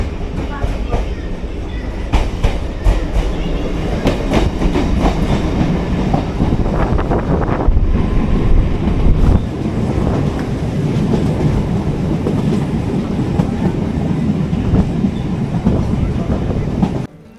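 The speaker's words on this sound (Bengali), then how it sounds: "গেদে থেকে ট্রেন" Gede local train runs along the line with loud continuous rumble, rhythmic wheel clatter over rail joints and occasional metallic squeals, close and filling the whole stretch.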